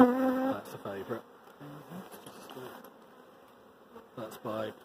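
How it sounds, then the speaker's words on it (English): Honeybees buzz steadily around a hive while a queen cell is being inspected, the drone swelling in louder bursts at the start and end. "I was waiting to see if that bee was going to come out in there."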